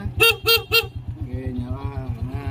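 Three quick, loud beeps from the horn of a 2011 Yamaha Jupiter Z motorcycle ring out over its close, steadily puttering idling engine, followed by someone speaking.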